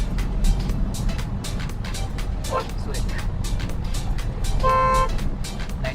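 A Tata Nano's horn gives a short honk at about the five-second mark on a smooth road, standing clearly above steady engine and road rumble while passing traffic noise runs throughout.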